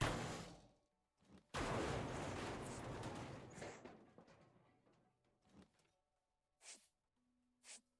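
Hammer blows in the video game Ship Graveyard Simulator 2, with loud clanging impacts followed by a few sharp, separate knocks, and no talking over them.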